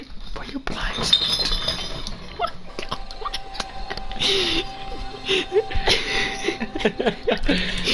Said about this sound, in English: All those glass bottles going in their recycle bin?